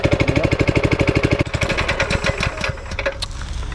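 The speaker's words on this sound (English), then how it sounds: "So you want to have your trowel machine lowered because you don't want it hitting the surface too roughly." A cold concrete power trowel machine starting on a slab gives a rapid, regular mechanical chugging that loosens and turns rougher after about a second and a half, loud and close, with no speech.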